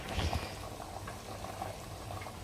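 Water heating toward a boil in a pot for rice pulao, a faint steady bubbling and simmering hiss with a few soft low bumps near the start.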